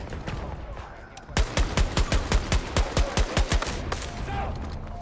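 Rapid gunfire in the shooter game Battlefield 2042, a fast run of about fifteen sharp, loud shots in even rhythm after a quieter stretch of background battle noise.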